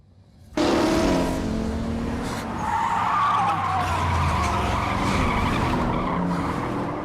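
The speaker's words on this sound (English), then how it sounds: "first these racing cars somehow sneak up on him" Racing cars skid past with loud, sustained tire squeal and engine roar, starting abruptly and continuing for several seconds, close and intense throughout.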